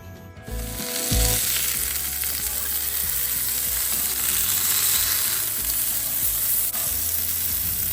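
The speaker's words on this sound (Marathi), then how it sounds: "आता या माशांच्या फोडी आपल्याला चार ते पाच मिनिटांसाठी दोन्ही बाजूने तळून घ्यायच्या आहेत" Pieces of chonak fish fry in a pan, setting off a loud, dense, continuous sizzle that swells after a brief quieter start and holds steady and close for several seconds, with no voices.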